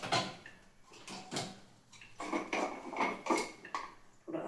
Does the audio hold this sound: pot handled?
yes